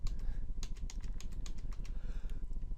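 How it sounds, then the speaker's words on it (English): Computer keyboard keys are pressed in a quick, irregular run of light clicks close by, over a low steady background hum, with no voices. "just use your arrow keys, and you can go through them all to see which one you like the most"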